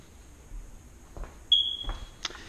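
A carbon monoxide sensor gives a single short, high-pitched electronic chirp amid quiet room noise, with a faint steady tone and a few soft knocks nearby.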